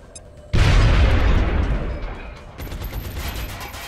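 A grenade detonating in the video game XCOM: Long War, a sudden heavy boom with a dense low rumble that decays over a couple of seconds, followed by crackling debris.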